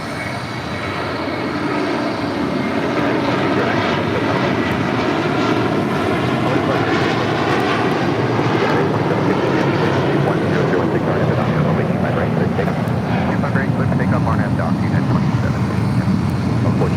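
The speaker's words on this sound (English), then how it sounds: "Next departure, United Airlines Flight 2609 heading to Boston and a 29-year-old" A 29-year-old United Airlines Boeing 757-200 departing LAX for Boston, its engines giving a steady, loud jet roar that holds for the whole stretch, with a voice talking faintly underneath.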